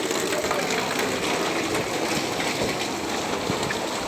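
Floodwater from a sudden heavy rain rushes across a road, a constant broad gushing wash of flowing water, loud and unbroken with no voices.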